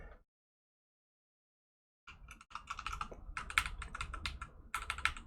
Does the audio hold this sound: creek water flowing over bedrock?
no